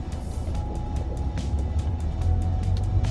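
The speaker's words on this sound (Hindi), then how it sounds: "तो चलिए अब ड्राइव करके देखते हैं। मैंने डी में डाल दी।" A Kia Sonet 1.0 turbo three-cylinder with DCT gearbox pulls away, a steady close low engine rumble and road noise building slightly in level throughout.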